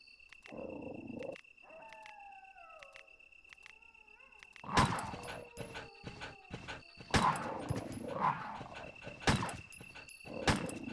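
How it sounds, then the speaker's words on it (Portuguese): A dog enemy in Resident Evil on PlayStation 3 growls and snarls amid sharp combat bangs, clicks and a steady high electronic tone, with repeated loud impacts and snarls clustering in the second half. "Primeiro esse cachorro aqui."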